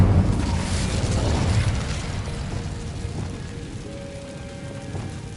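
Spell blasts in Hogwarts Legacy, Bombarda and Incendio: a loud rumbling explosive whoosh that decays into a crackling, rain-like hiss.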